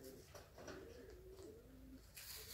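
Pigeons coo softly in the distance at an early-morning spot, several drawn-out calls rising and falling against a faint hiss of background noise.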